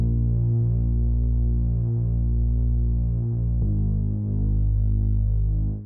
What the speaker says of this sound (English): I also have this pretty simple bass line which comes in during the verse